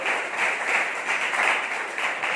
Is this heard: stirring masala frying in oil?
no